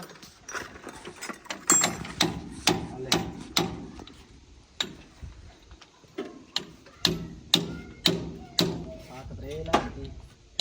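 A wrench turning a nut gives a run of sharp metallic clicks and ratcheting ticks in uneven bursts, close by, with voices in the background.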